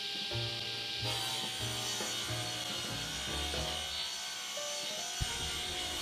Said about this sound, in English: Just cutting the box for the chop back now, and docking it to length.